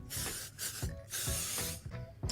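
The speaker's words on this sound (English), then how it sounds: "I'm actually going to start by maybe spraying just a little bit of mold release, just a touch" Short bursts of mold release from a spray can, several loud hisses with brief pauses between them and a few knocks and clicks from handling in between.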